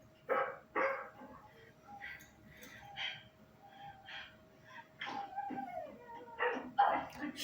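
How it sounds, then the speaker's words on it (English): A dog barks in short bursts and whimpers between them, fairly close and moderately loud, over a steady background tone and some faint voices. "Shut the dog up."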